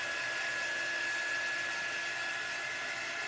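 A hair dryer blows a constant, even whir with a thin high whine, drying a Mod Podge coating, heard steadily and fairly softly with no speech.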